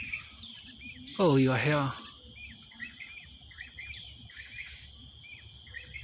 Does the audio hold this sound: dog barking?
no